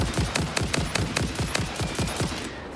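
Rapid rifle gunfire in the factory-building video game Satisfactory, about a dozen sharp evenly spaced shots in quick succession, loud and close, then stopping.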